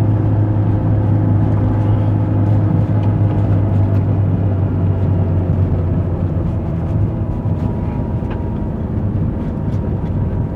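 A 2018 Wuling Confero car with about 60,000 km on it climbs a steep mountain road in third gear with the throttle held around three-quarters, giving a loud, constant low engine drone with no pauses.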